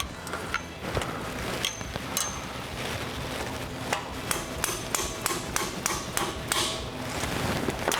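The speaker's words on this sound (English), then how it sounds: "I always grab my trusty rusty knife, and It's brittle plastic," A trusty rusty knife breaks pieces off brittle plastic on a steering installation job, giving a run of sharp cracking snaps and clicks at irregular intervals, loud and close, with no talking.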